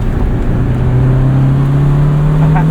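A 1991 Honda Civic Si EF hatchback accelerates in second gear, heard from inside the cabin: a loud, steady engine drone rising smoothly in pitch as revs climb, with road and wind noise underneath and no talking.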